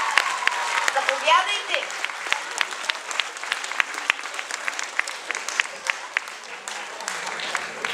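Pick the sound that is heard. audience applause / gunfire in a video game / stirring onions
audience applause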